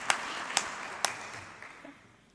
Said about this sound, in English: So we can clap for that.